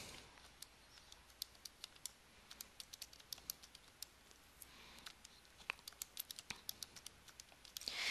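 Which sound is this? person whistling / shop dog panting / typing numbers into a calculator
typing numbers into a calculator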